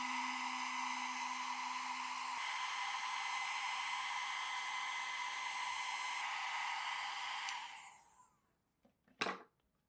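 A heat gun blows steadily and loudly, warming the adhesive on a Mac Classic II case, then shuts off and spins down, followed by a short clack.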